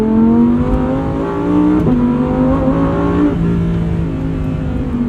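A loud, close Lamborghini sports car engine roars and revs up in pitch, dips briefly through a shift of its 7-speed dual-clutch gearbox, then climbs again with a steady throaty drone.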